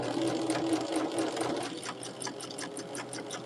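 A sewing machine runs steadily, stitching a quarter-inch seam along a marked line on a quilt block, with a continuous close whir and fast needle ticks.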